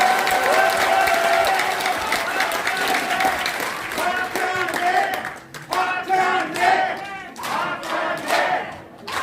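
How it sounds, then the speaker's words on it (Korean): A large crowd at a political rally in South Jeolla, Korea cheers and shouts loudly, then breaks into rhythmic clapping and chanting bursts, the noise rising and falling. "여러분 박찬대 최고위원을 큰 박수로 무대 위로 모시겠습니다"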